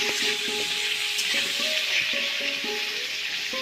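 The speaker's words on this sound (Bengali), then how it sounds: "রং গুঁড়ো অল্প আর লবণ অল্প দিয়ে আলুটাকে আমি লাল করে ফ্রাই করে নেব।" Potatoes fry in hot oil with a little turmeric and salt, giving a dense close sizzle with light clinks and stirring taps over it.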